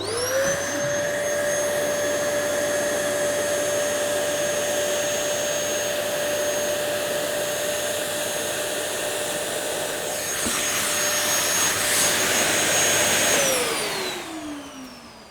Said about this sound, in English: it'll be back up here on the vacuum cleaner